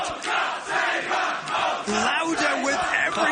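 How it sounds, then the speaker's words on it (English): A wrestling crowd in a ballroom chants and roars in loud, rhythmic swells, the voices of many fans rising and falling in waves with no single voice standing out. "Listen to the crowd, Matt."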